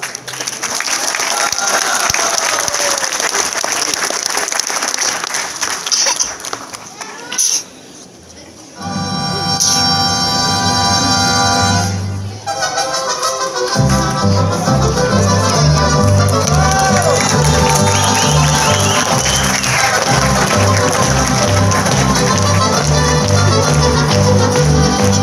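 Audience applause and cheering at a sociocultural folk dance event in San Mateo Yoloxochitlán, following jarabe tapatío and son de la negra; a broad crowd wash, brief lull, then sustained clapping over rhythmic music.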